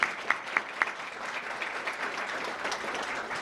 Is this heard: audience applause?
yes